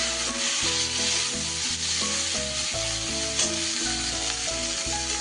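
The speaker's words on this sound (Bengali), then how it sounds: "একটু মিনিট দুয়েক আমি এরমভাবে ভালো করে নাড়াচাড়া করে নেব" Broccoli fries and gets stirred in oil left over from frying fish, a continuous bright sizzle running under rhythmic background music with melodic tones, no voices.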